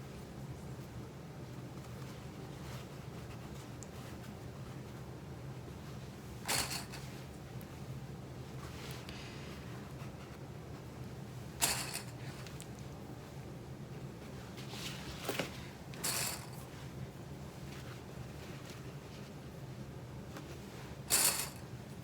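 Scissors snip the seam allowance of a fabric lining for a satchel, four or five sharp, isolated clips spaced several seconds apart over a low, steady background hum.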